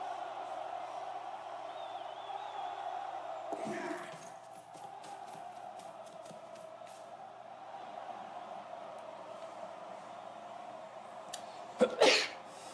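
A sneeze bursts out sharply and close near the end, after a quiet background with a brief cough-like sound earlier.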